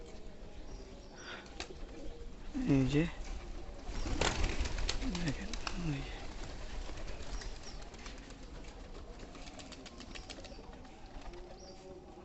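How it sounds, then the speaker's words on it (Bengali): Pigeons at a home loft coo repeatedly in low, rolling calls, mixed with bursts of wing flapping as they land and gather to feed, while someone talks over them. "ওই যে দেখেন ডাক কবুতরের, অসাধারণ অসাধারণ ডাক।"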